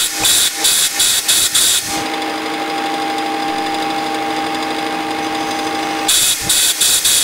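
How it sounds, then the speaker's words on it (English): Compressed air blasts through a lathe spindle to clear swarf after deep taper boring, a loud steady hiss lasting about four seconds, bracketed by short rhythmic bursts of air at the start and end. "I first try compressed air"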